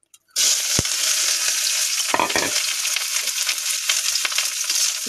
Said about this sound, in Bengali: তো এটা পেঁয়াজ দিয়ে ভেজে নেবো।